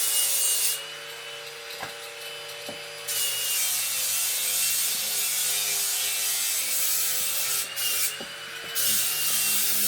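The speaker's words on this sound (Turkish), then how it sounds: "Şimdi Bahadır zımparasını da attıktan sonra ben boyama işlemine geçeceğim" Wood is rubbed and sanded in long steady strokes, a harsh scraping hiss that pauses briefly twice, with a few light knocks in between.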